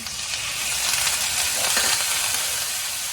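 Crushed ginger and water-soaked asafoetida sizzle in hot oil with cumin seeds, making a close, constant, bright hiss that continues without pause.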